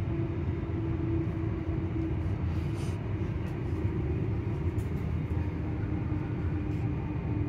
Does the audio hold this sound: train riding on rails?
yes